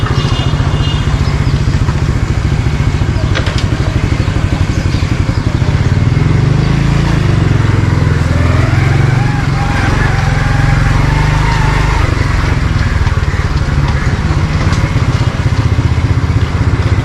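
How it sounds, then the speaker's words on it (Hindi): Motorcycle riding through a closed garment market during a traders' strike in Karachi, its engine putting and revving steadily up close with clattery mechanical noise, running continuously throughout. "लेकिन आज देखो मैं कैसे मोटरसाइकिल गुजार रहा हूँ।"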